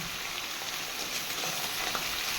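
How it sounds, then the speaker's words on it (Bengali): Paneer pieces frying lightly in a little oil for a carrot-and-potato paneer curry, giving a steady, soft, close hiss of sizzling throughout with no voices. "ভেজে দিই হালকা করে একদমই বেশি ভাজবো না জাস্ট দিলাম আর করে একটু তেলে শুধু হালকা করে বেঁধে উঠে রাখবো"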